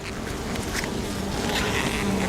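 Agitated honey bees buzz steadily at an open hive as frames are lifted out, a dense swarming drone that stays loud and continuous with no voices over it.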